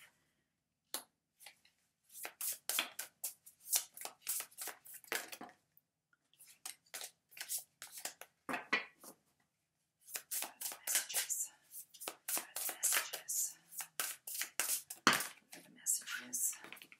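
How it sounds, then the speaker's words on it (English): Tarot cards being shuffled by hand, bursts of crisp riffling and slapping in irregular runs separated by short pauses, close and clear with no talk over them. "I shuffle till one card falls out"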